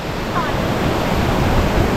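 Lan Rak waterfall, a rock slider waterfall in Nakhon Nayok, Thailand, gives a loud, steady hissing rush of falling water close by, broadband and unbroken.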